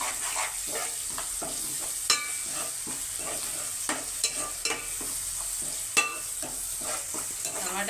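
Onions frying slowly in a pan for a mutton masala curry, a soft steady sizzle with occasional louder pops and crackles and light stirring scrapes, no talking.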